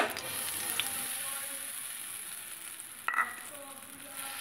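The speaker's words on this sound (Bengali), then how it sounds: "কড়াইতে সামান্য সাদা তেল দিয়ে দিলাম চাপড়টা বানানোর জন্য।" A small amount of white cooking oil heats in a wok, giving a steady low sizzle and hiss throughout, with a brief clink or stir near the three-second mark.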